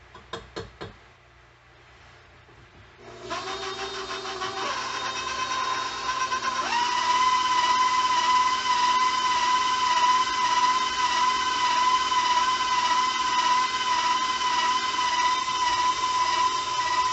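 Electric mixer beating orange slice cake batter, a steady whirring motor that starts after a few seconds of clatter and then runs continuously and fairly loud with a rising tone.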